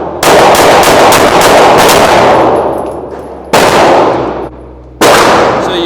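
Pistol shots ring out at a shooting range, loud and close, a fast string of sharp cracks with ringing echoes followed by two more separate shots and their decaying tails.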